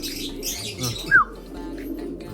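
A recessive red racing pigeon gives a single short coo against a busy background of other pigeons and loft noise.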